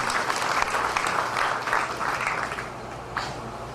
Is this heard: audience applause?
yes